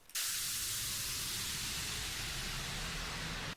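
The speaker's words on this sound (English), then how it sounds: "For downlifters and uplifters," A sustained bright white-noise sweep used as a downlifter effect in music production, holding steady and loud for about three seconds before cutting off abruptly.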